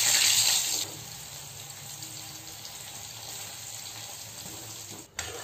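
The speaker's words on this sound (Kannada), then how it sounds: "ಈಗ ತುಪ್ಪದಲ್ಲಿ ಹಾಕಿ ಫ್ರೈ ಮಾಡ್ತೇನೆ" Sliced onion frying in hot ghee in a home kitchen: a steady, broad sizzle that starts loud and bright as the onion hits the fat, then settles into a softer, even crackle, with no talking.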